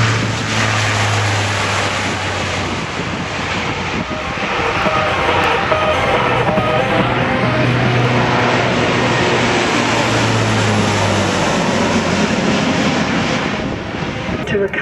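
A military aircraft at the Avalon Airshow 2019 flies past with a loud, steady engine roar that fills the whole stretch, swelling slightly midway, while a commentator's voice carries over it.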